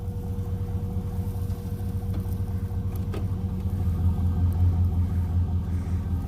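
A Chevy 3/4-ton pickup truck engine rumbles under load while weighing crop bales, a steady deep low drone that swells slightly toward the end, heard alone without talk.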